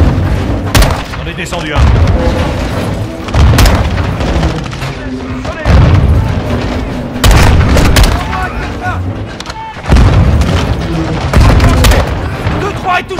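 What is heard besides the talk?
grenade explosions and gunfire in Modern Warfare 2 video game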